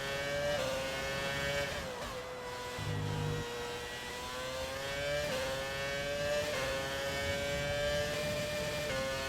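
Race car engine revving in the F1 2020 video game, a loud continuous high-pitched whine that rises and drops with gear shifts over several seconds, close and steady with no talk.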